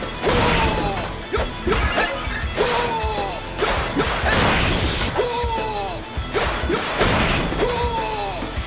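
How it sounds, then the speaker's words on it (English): Jars, crates and wooden objects being smashed in Dynasty Warriors 4 Xtreme Legends on PS2, repeated crashing and thwacking blows roughly every second, loud and close amid swishing weapon strokes and game effects. "Demolition has you destroying jars, crates, wooden oxes, juggernauts, and battering rams to earn points."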